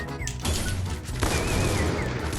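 Gunfire in the Free Fire battle game, loud, rapid bursts of shots firing almost continuously across the moment, with brief gaps between volleys.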